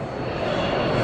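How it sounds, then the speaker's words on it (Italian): An airplane at Addis Ababa airport roars as a loud, steady broadband engine rumble with no breaks, heard close by. "eccolo l'aereo"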